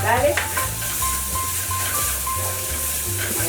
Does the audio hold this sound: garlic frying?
yes